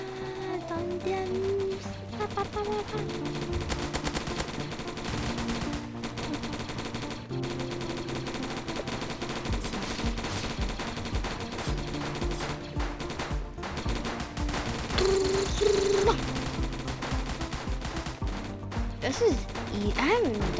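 Gunfire in a zombie attack video game, rapid bursts of machine-gun-like shots rattling almost continuously, with game sounds and a voice talking over them at times.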